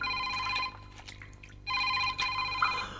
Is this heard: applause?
no